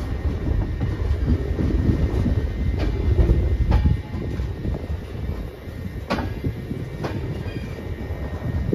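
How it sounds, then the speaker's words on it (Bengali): A long-distance passenger train rolls into Kanyakumari station at the end of its run from Dibrugarh, with a loud low rumble of wheels and carriages, occasional sharp clanks and squeals, and the noise easing a little partway through, heard from inside. "আর আমাদের ট্রেনটা একটু পরেই ঢুকবে হচ্ছে আমার এবং এই ট্রেনটিরও ডেস্টিনেশন কন্যাকুমারী স্টেশনে।"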